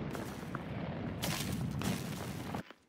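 Rapid bursts of gunfire and booming blasts in Call of Duty: Modern Warfare III, dense and loud, cutting off abruptly near the end.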